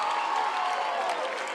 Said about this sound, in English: clapping as Peyton Grantham gets her first base hit of the ball game